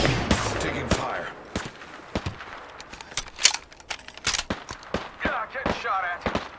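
Rapid gunfire bursts in the Apex Legends video game, sharp repeated shots and volleys crackling throughout amid other game effects, with voice lines now and then.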